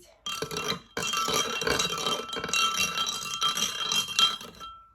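A drink is poured into a ribbed cup, making a rattly, bubbling gurgle in two close bursts with a brief pause between.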